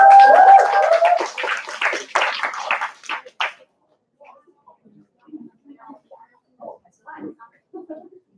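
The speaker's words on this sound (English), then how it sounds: "Let's give her a warm round of applause." An audience at a college graduation project seminar claps for the host, a few seconds of dense clapping with a voice over it, then it fades into scattered quiet sounds.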